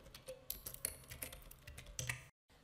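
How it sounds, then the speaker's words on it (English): Quick bursts of keystrokes on a computer keyboard while typing Python code, soft close clicks in an uneven run before a short silence and one last tap. "let me, as usual, type in print hello world"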